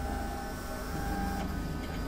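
A glass engraving machine whirs steadily as it drives back to its limit positions, a continuous mechanical motor drone with a faint whine on top.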